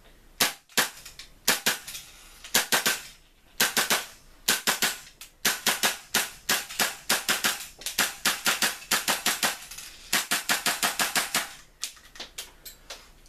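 An Umarex VFC VZ61 Scorpion gas blowback airsoft gun fires sharp, snappy cracks nearby, starting with single shots and quick pairs, then running into fast rhythmic bursts with brief pauses between strings.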